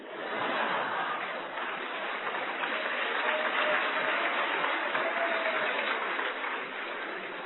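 Sustained applause from a large audience at a Hindi public lecture, a dense steady wash of many hands clapping with faint murmurs and scattered chuckles mixed in, holding at an even level throughout.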